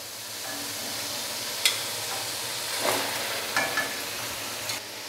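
Boiled chicken is added to tomatoes frying in a pan, giving a steady loud sizzle with a few scraping stirs and clinks and no talking.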